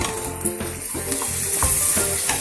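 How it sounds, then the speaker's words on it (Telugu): Stuffed eggplants frying in oil with onion, green chili and curry leaves, a loud close sizzle under repeated stirring and scraping strokes, no voices. "కరివేపాకు, పచ్చిమిర్చి, ఆనియన్ వేగిన తర్వాత స్టఫ్ చేసి పెట్టుకున్న వంకాయలు"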